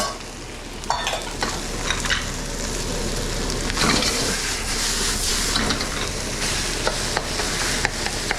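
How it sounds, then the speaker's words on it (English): Fried rice with eggs and vegetables is stir-fried in a hot pan, giving a loud, continuous sizzle and hiss broken by scraping and tossing strokes of a utensil at close range. "we can get all of our eggs and vegetables back in. You saw there's still quite a bit of liquid egg in there, and that's okay. Just gonna kind of cook around the rice"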